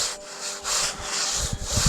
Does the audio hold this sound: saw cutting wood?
yes